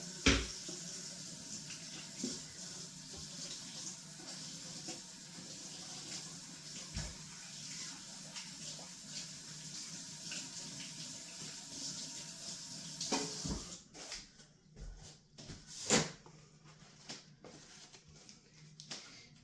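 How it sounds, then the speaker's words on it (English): Tap water runs steadily as a cookie scoop is rinsed at a kitchen sink, a soft continuous splashing stream that cuts off near the end, leaving brief faint clinks. "I'm just going to give it a quick wash right now"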